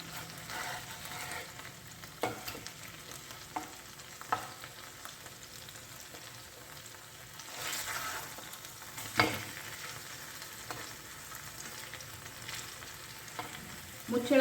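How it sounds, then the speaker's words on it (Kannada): Goan chicken cafreal frying in a pan on a low flame gives a soft, steady sizzle with occasional faint stirring scrapes, quiet and close, with no talking. "ಕಲರ್ ಎಲ್ಲ ಚೆನ್ನಾಗಿ ಚೇಂಜ್ ಆಗೋ ತನಕ ಫ್ರೈ ಮಾಡ್ಕೊಬೇಕು"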